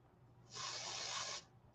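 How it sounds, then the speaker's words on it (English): A single steady airbrush spray of foundation onto a brush hisses for about a second, close and fairly loud, then cuts off abruptly. "Sprayed it directly on the brush."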